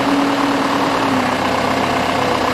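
A Toyota forklift engine idles steadily, close up, with a continuous low rumble and a faint hum on top, with no talking.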